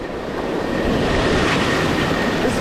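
Rough ocean surf breaking on a beach during a surf-fishing trip, a loud, continuous broadband roar of crashing waves with wind buffeting the microphone, with no speech.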